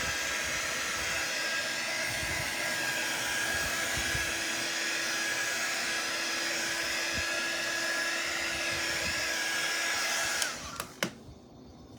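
A heat tool drying paint on an abstract pumpkin artwork, a loud steady blowing whine running close for about ten seconds before it switches off, followed by a couple of small knocks.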